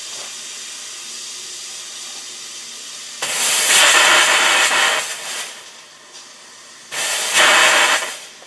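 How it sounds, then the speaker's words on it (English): Steam hisses from the boiler of a scratch-built gauge 1 live steam model locomotive at its first firing, two loud broadband bursts rising over a steady background hiss, with no talking. "That's the first firing up of the boiler."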